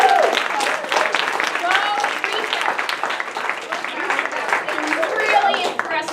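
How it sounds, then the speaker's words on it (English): Staff members applaud during a meeting, sustained mixed clapping and cheering from a modest crowd in a room, steady and fairly close throughout the clip. "I want a big round of applause."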